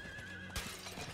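A horse neighs once in Diablo 4, a short, faint whinny over a steady ambient game hum with light hoof-like thumps after it.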